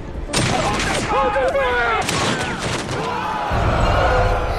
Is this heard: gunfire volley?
yes